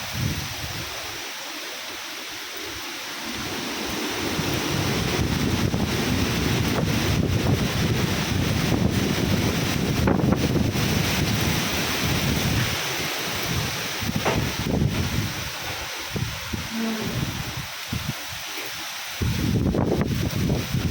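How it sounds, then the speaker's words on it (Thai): Wind and rain blow outdoors in gusty bursts that roar and buffet the microphone, swelling loud for long stretches, then easing into brief quieter lulls. "อยู่ยากมากเลยเนี่ยฝนลมมาแบบเนี้ย"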